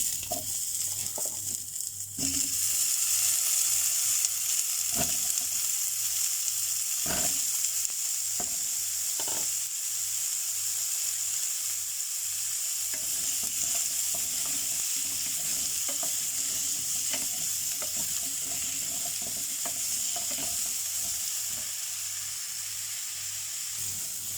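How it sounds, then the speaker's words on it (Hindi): Potatoes frying in a frying pan, a continuous loud hiss and crackle of hot oil with occasional clicks and bumps of a utensil, steady throughout with no talking. "अब इसी फ्राई पैन में ये आलू को फ्राई कर लेंगे।"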